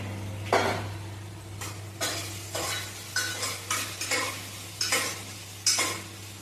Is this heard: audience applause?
no